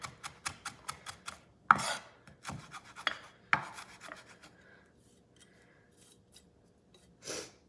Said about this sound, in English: So just roughly chop your cilantro.